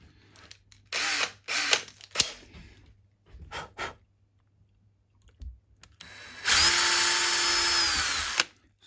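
A small power drill with a 1.5mm bit gives a few short bursts, then one steady whine for about two seconds, fairly quiet and close, with faint clicks between, drilling into an ESP LTD Explorer guitar.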